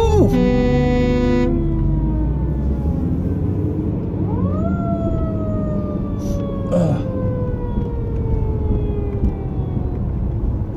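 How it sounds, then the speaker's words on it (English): A fire truck's siren wails nearby, a long rising-and-falling tone repeating across the clip over steady traffic rumble, with a brief horn blast at the start. "Fire truck."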